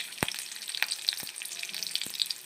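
A chilli tempering (tadka) for lemon rice sizzles and crackles in hot oil close up, with sharp popping bursts over a steady hiss and a few spoon knocks.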